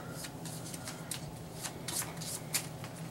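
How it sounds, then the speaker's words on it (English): Playing cards for the Valley of the Kings deck-building game being shuffled by hand, a steady run of soft riffling and rubbing bursts over about three seconds, close and fairly quiet. "I'm gonna quit shuffling mine."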